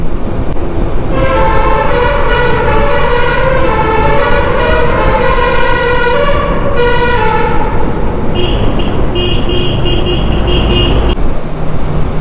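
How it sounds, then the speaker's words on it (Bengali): A bus horn playing a melodic musical tune on a highway between Jammu and Srinagar, loud and close, with stepped repeating notes over heavy road and engine rumble, later joined by a shrill higher-pitched tooting. "সালা বাস কি রিংটোন লাগিয়েছে রে ভাই।"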